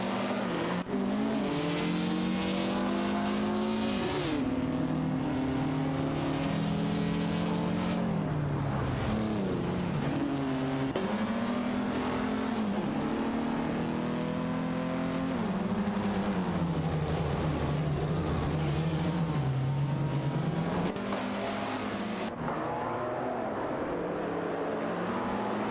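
Several engines of race cars in a computer racing game drone and whine continuously, pitches rising and falling together as they accelerate and shift, steady and loud throughout with no talking.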